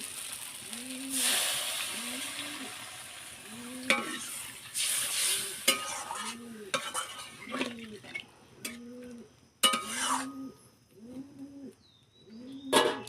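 A pan of frying egg and pointed gourd curry hisses and sizzles as water goes in, with loud surges and stirring scrapes; rhythmic dove cooing runs steadily in the background.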